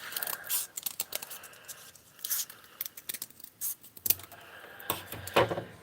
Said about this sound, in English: Let's get one of these ones and cut it in half.